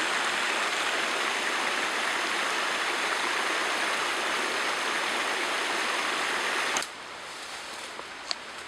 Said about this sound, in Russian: Вот ручеечек, который течет.